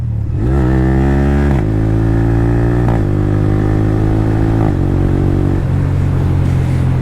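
A Yamaha R15 M fitted with an Akrapovič exhaust revs hard with the throttle held open, its loud engine note climbing and then dropping sharply at each quick-shifter upshift, three or four clean gear changes in quick succession.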